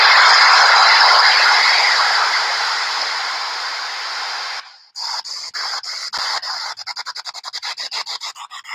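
A PSB-7 spirit box sweeping through radio frequencies: a long loud hiss of static that drops out, then rapid choppy bursts of noise as it jumps from station to station, close and with no talk.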